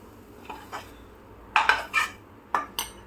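A spoon scrapes and taps fried khoya from a pan into a bowl in a home kitchen, giving several sharp metallic clinks and knocks in irregular clusters, close and fairly loud against a quiet background.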